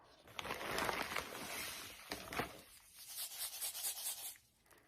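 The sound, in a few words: glass beads poured from a cup into a funnel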